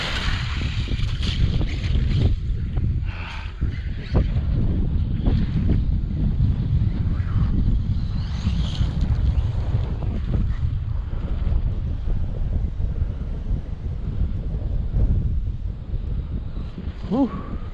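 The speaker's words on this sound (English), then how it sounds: "Too bad it's a lot of wind here." Steady wind buffeting the microphone at an outdoor gravel pit, a continuous broad roar with gusty fluctuations throughout, with faint voices in the background.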